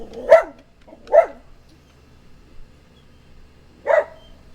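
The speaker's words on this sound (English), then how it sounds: "sorry, that's my dog." A dog barks three times nearby, two quick barks followed by a pause and then a single bark, with quiet room sound between.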